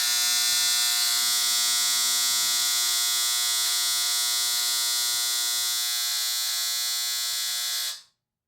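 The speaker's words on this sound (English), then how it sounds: "that was the dryer." A household clothes dryer runs with a steady, droning motor hum and a bright whirring whine that holds constant for about eight seconds, then cuts off abruptly into silence.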